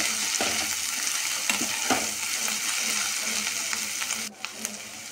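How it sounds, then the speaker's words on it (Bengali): Onions frying in oil with black cumin in a wok give a steady, dense sizzle with occasional stir clicks, close and continuous, dipping briefly near the end. "কড়াইতে তেল দিয়ে তারপর দিয়ে দিলাম কালো জিরে, তারপরে দিলাম পেঁয়াজ দিয়ে একটু নাড়াচাড়া দিয়ে"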